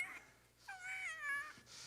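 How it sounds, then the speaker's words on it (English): A cat gives a single drawn-out meow with a rising and falling pitch, close and fairly quiet against low background hum. "Get that cat out of my way."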